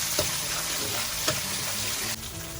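Water poured into a hot cooking pan hisses and sizzles steadily, a continuous wash of sound with a couple of soft clicks, then the sizzle drops slightly near the end.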